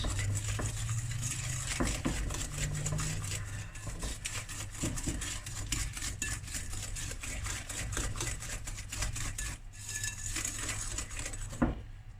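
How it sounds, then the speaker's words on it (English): Cookie dough with egg and vanilla essence being stirred in a bowl for chocolate cookies, a steady run of scraping and tapping of the utensil against the bowl, fairly close, with no talking. "And just stir that, mix it until combined."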